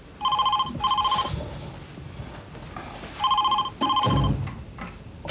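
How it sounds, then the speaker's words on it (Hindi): A telephone rings in two double bursts of electronic trills, separated by a pause, with faint room noise between the rings. "लेकिन बॉबी प्लीज देखना ना किसका फोन है।"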